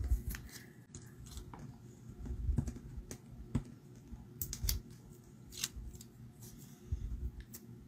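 Paper trimmer or scissors cutting card stock for handmade cards, a series of soft, close snipping and sliding clicks spread across several seconds, with quiet thumps between cuts and no talking.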